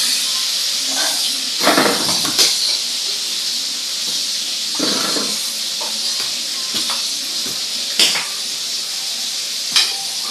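Fish frying in a pan, the oil giving a constant loud sizzling hiss broken by several brief crackling spurts and clinks of cookware.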